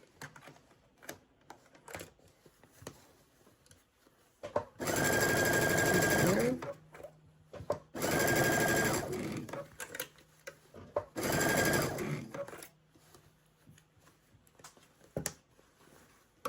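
A Baby Lock Chorus sewing machine stitching a sweater runs in three loud bursts of a couple of seconds each, separated by quiet pauses filled with faint handling clicks.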